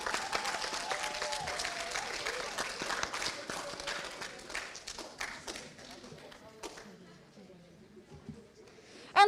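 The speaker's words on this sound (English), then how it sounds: "One more round of applause for Team Cristoforetti." Applause at a graduation ceremony, a steady crowd clapping that fades over several seconds, with voices mixed in.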